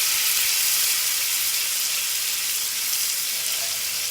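A shallot reduction simmers gently in a pan, a soft, steady bubbling hiss and sizzle that holds even and continuous for a few seconds with no talking.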